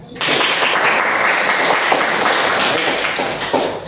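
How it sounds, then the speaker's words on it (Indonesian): Classroom applause from a group of students, dense steady clapping that starts abruptly and holds for several seconds without talk. "Sekali lagi tepuk tangan."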